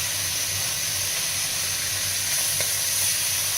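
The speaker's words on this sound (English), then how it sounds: "I love that sizzle sound." Steady, close sizzling of sausage meat frying in a pan, a continuous bright hiss with faint crackles and no talking.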